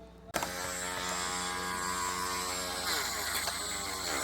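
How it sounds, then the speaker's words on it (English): A Dremel rotary tool with a wire wheel cleans the shaft of a Singer VS2 sewing machine, starting abruptly and holding a steady, close, high-pitched whine with harmonic buzz and faint brushing grit for several seconds. "I'm going to get my Dremel with a wire wheel down here and clean up the shaft"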